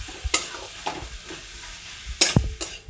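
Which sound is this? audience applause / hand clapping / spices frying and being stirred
spices frying and being stirred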